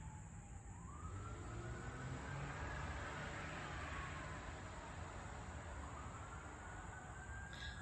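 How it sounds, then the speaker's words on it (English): An emergency siren wails in the distance outside, its pitch sweeping slowly up and down in long cycles, faint and steady against a low background rumble. "Let me say a quick prayer for that siren"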